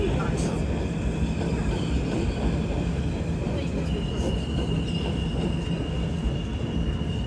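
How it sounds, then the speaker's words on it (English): A downtown New York subway R train heading to Brooklyn rumbles past in a steady, loud roar, with a thin metallic wheel squeal running above the clatter throughout. "I think that's the downtown R train heading to Brooklyn."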